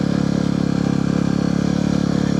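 A Yamaha WR250R dual-sport motorcycle rides through loose sand with a little gravel near the shore, its engine droning loud and close at a steady, throbbing pitch throughout.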